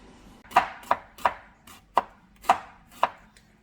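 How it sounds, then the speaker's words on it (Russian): Onion being chopped with a knife on a board, seven crisp, evenly spaced chops in a steady rhythm, close and clear with no talk. "осталось нам нарезать лук."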